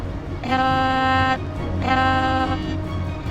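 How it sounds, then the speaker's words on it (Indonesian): Two long, loud airplane horn blasts with a steady droning tone, each lasting about a second, separated by a short gap over engine rumble. "Klakson, satu-satunya pesawat di dunia yang ada klakson."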